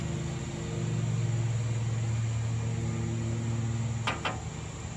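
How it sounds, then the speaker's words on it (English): A steady low mechanical drone of a lawn mower running nearby, continuous throughout with a brief sharp knock near the end. "Someone's mowing the lawn."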